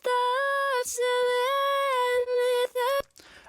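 A reversed female vocal with no effects, a sustained sung tone swelling and gliding in short phrases with brief breaks, close and clear, ending in a noisy tail.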